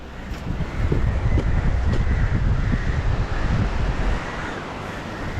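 Crows caw a few times outdoors at a fishing village over a steady rush of wind.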